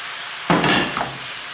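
Sliced onions dropped into a ramen noodle soup pot on medium-high heat, a sudden sizzle and clatter followed by a brief scrape of stirring, then a steady quiet hiss.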